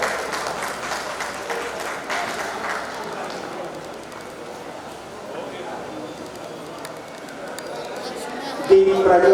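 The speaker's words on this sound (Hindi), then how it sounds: "तालियां बजती रहनी चाहिए।" An audience claps at a village heads' dialogue program in Giridih district. The applause is moderately loud at first, then softens into a lower crowd murmur before a sudden louder burst at the end.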